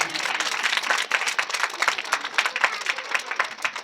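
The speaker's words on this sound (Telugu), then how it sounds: "గట్టిగా చప్పట్లు కావాలమ్మా" An audience claps loudly at a Christmas comedy show, a dense, steady patter of many hands sustained throughout with a few louder bursts, close and full.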